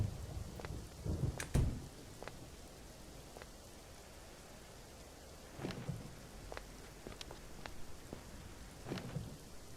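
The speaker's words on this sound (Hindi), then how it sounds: "बारिश काफ़ी तेज़ होने लगी थी" Rain falls steadily with a soft hiss, broken by several dull thumps and low rumbles that come and go.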